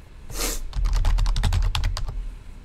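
A computer keyboard is tapped out close by as someone enters a short command, a quick run of about a dozen crisp key clicks, with a heavier press at the start and no talking.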